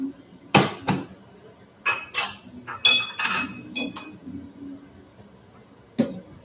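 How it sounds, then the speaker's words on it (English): A bowl is set down amid kitchen clatter, with several sharp clinks and knocks of dishware spread irregularly, close and fairly loud, separated by short quiet gaps. "Put a bowl down here"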